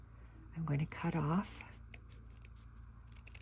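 Scissors snip the ties off a linen tea towel, with a few short cutting sounds close by over a low background hum.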